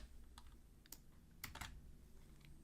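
Typing code on a computer keyboard: a handful of soft, close keystrokes spaced unevenly, a few landing in a quick pair, over a faint steady hum with no talking.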